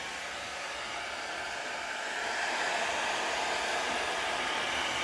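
A heat gun blows a steady, loud, broadband rush of air across poured acrylic paint, growing slightly stronger partway through and running on without a break and without talk.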